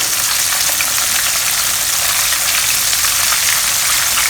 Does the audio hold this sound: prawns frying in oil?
yes